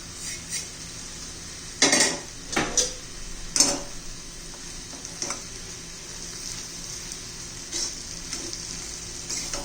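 Roasted gram flour going into a capsicum curry in a pan and being mixed: a few sharp metal spoon clanks against the pan, then quieter scraping over a faint sizzle, close and intermittent.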